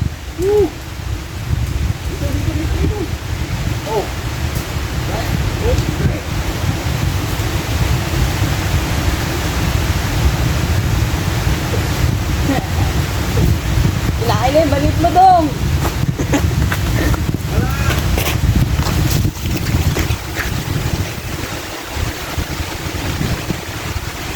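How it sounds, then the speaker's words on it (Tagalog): Steady rain and gusting wind in a rural provincial setting make a broad, constant wash of noise, with occasional faint voices and brief tonal sounds in the background. "Ayan na ang ulan mga idol."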